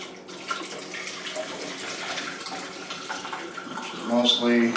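Broth and lentils pour into a soup pot, a steady liquid rush with splashing that thickens near the end, heard under faint background sounds.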